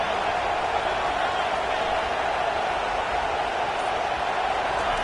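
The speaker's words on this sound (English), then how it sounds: "Decibels rising as the crowd gets behind this defense on 3rd down." A football stadium crowd on third down makes a loud, steady, continuous roar that fills the space without pause, with no distinct voices standing out.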